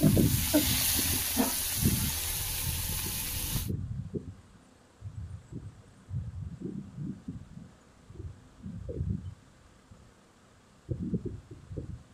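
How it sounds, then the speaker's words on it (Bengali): Shrimp fry in a pan with a loud hiss at first, which then drops to a quieter, uneven sizzle broken by soft intermittent bursts. "দেখো চিংড়ি মাছটা ভালো করে ভাজছি"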